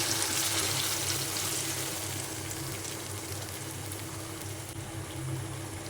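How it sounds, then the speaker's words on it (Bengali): Water pours from a bowl into a pan of hilsa fish simmering in mustard paste, making a steady close hiss and bubbling that holds for several seconds without talk. "আর এক বাটির মতো জল দিয়ে দিলাম"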